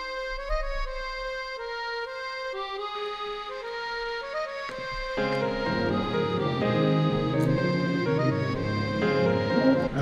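A xylophone melody built in music software, playing a bright run of struck notes that is joined by a fuller layered backing about halfway through, loud and with no talking.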